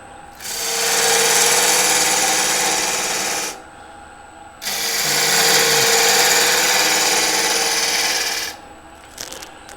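A woodturning lathe spins a workpiece held in a 4-jaw chuck while a tenon is shaped, giving two loud, sustained bursts of rushing, scraping cutting noise separated by a short pause.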